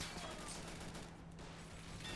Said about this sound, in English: Oh, explosions!